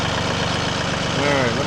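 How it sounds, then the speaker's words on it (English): A large farm tractor fitted with heavy flail-mowing equipment idles steadily close by, a continuous low engine chug with an even pulsing throb. "So we'll get the bigger tractor with the heavier equipment out for that."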